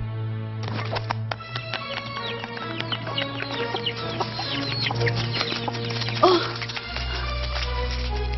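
Cartoon chicks and hens clucking and peeping in quick, busy bursts, close and fairly loud, over a steady music bed with a brief louder squawk near the end.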